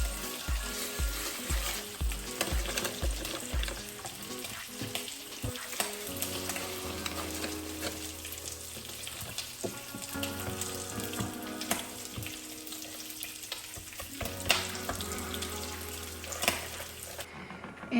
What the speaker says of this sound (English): I had this skillet up way too high when I put the bacon in